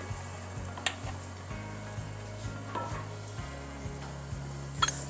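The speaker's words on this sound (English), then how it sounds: "Now we're going to cook this until the ground beef is cooked through and those onions are translucent." Ground beef and chopped onions cooking in a skillet, a soft continuous sizzle beneath a low repeating musical background, with occasional light scrapes and clinks of a utensil.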